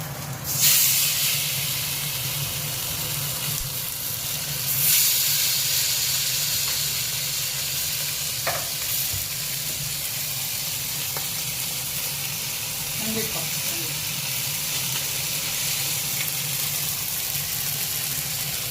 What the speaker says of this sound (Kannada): ಮೀನು ಕಲಸಿಟ್ಟಿದ್ದಲ್ಲ, ಅದನ್ನು ಫ್ರೈ ಮಾಡ್ತಾಯಿದ್ವಿ.